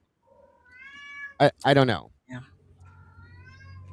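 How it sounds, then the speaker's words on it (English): A house cat meows several times nearby, drawn-out tonal cries separated by a brief exclamation, with a person speaking a few words in between. "Somebody's cat is happy or unhappy."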